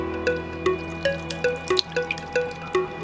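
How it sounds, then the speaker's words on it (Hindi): Liquid drips steadily through a muslin cloth as it is strained for a colourful mithai, each drop a clear plip landing at roughly even intervals, close by and alone. "अब आप इसको पानी को अच्छे से एकदम निचोड़ लें"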